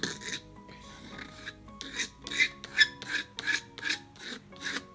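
The edge of an artist's palette knife scrapes paint across a surface in about nine short rasping strokes. Each gritty, close stroke is separated by a brief pause, and the strokes keep a fairly steady rhythm.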